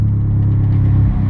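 Mazdaspeed 3 engine, running rich on methanol, catching and settling into a loud, steady low rumble close by, with no voices.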